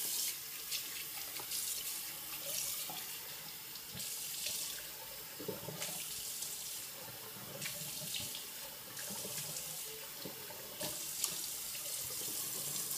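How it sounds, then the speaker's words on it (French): A tap runs steadily into a sink for a cold rinse during a traditional wet shave with a Merkur Progress long-handle razor, close and continuous with small splashing changes as hands or a face move under the stream. "J'aime bien faire un rinçage à froid maintenant et la lin après."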